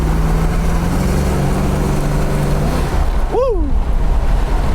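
A 1971 Dodge Challenger R/T "Rolling Thunder" V8 drones steadily under load from inside the cabin, a low, continuous engine roar that rises briefly near the end as it accelerates, with road and wind noise throughout.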